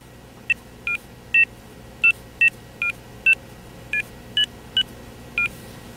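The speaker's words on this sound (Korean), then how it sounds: "키패드를 이용하여 걸고자 하는 전화번호를 입력합니다." A Samsung Omnia smartphone keypad plays a series of about eleven short, clear dialing tones as a number is entered, evenly spaced and alone over a faint background hiss.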